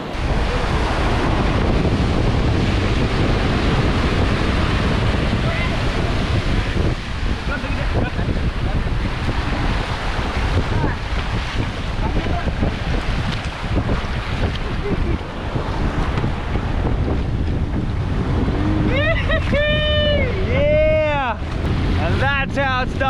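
Strong wind roars and buffets the microphone continuously over sloshing water on a small boat; a few high, wavering calls rise near the end.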